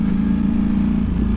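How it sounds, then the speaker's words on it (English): A 2023 Ducati Streetfighter V4S engine drones steadily off throttle while engine braking, a loud, continuous low mechanical hum with wind rush and no clear rise in revs, heard close and alone. "as you come off the throttle, you know, quite a lot of engine braking."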